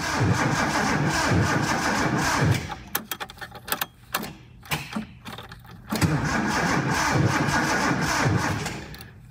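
The engine of a 1976 Datsun 280z cranks with a rhythmic starter churn, falls into a few sputtering, uneven bursts, then catches and settles into a steady, loud running sound.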